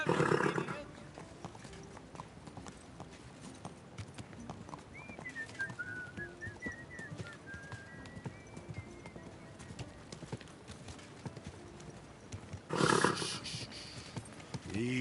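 Horse hooves clip-clop steadily in Kingdom Come: Deliverance 2, a medieval open-world video game, joined by a brief whinny and light birdsong, with voiced dialogue and game ambience running throughout.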